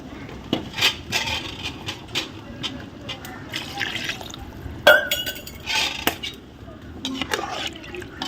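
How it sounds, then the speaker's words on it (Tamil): Water is poured into a pot of chicken masala cooking over a wood-fired stove for chicken dum biryani, a steady splashing gurgle beneath ongoing talk and kitchen clatter. "இந்த தண்ணி இருக்குல்ல அதில் கொஞ்சம் வந்து நம்ம ஊற்றி விடுவோம்"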